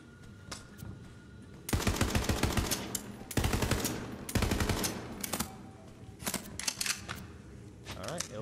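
Rapid burst-fire gun shooting in Borderlands 3, loud repeated volleys of quick shots in clusters, with quieter sporadic shots between bursts.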